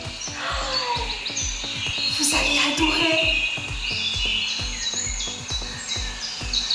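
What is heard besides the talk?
birds singing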